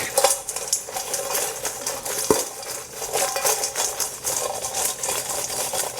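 Dry, crackly clatter of oven-baked french fries shaken in a metal pan, a steady rustling sizzle with light scraping, close and continuous, no voices.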